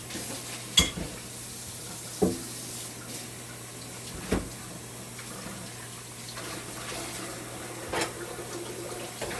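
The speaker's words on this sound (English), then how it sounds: "You hear the rundown going there, folks?" Jamaican salt mackerel rundown simmering in fresh coconut milk gives a soft, steady bubbling sizzle close by, with occasional clinks of stirring.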